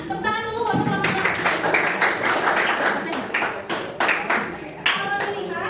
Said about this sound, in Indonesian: Tepuk tangan dulu buat kelompok Lana